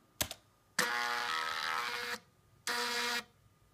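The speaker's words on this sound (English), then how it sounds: "We first print the logo, and then we issue a couple of steps of the stepper motor to eject the paper." A TI AM3359 PRU-driven thermal printer prints a logo and then steps its motor to eject paper: one short click, a loud buzzing print run of more than a second, then a shorter buzzing burst after a pause.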